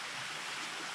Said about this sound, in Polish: Tam w dole może to słychać. Płynie sobie strumyk.